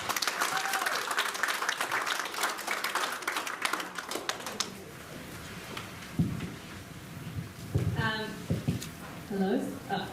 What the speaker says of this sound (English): Can we give her a round of applause tonight?